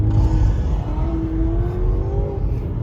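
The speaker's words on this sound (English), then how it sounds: "Mustang's rowdy. that's a real Mustang." A powerful Ford Mustang engine roars and revs steadily, a deep throaty rumble with a rising whine, close and loud throughout.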